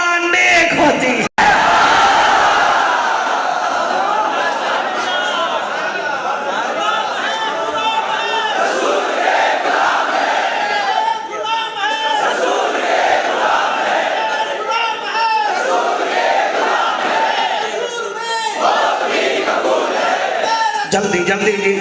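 A large crowd at a Milad gathering chants and roars religious slogans in unison, loud and sustained, with repeated surging shouts and a busy background of voices throughout.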